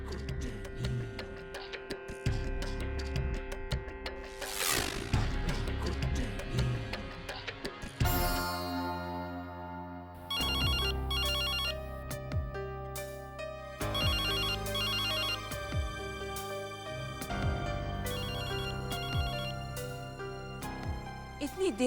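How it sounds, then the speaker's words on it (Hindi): A telephone rings repeatedly, bright electronic ringtone bursts recurring in a steady pattern, loud and near, with music playing underneath. "इतनी देर से फोन की घंटी बज रही है"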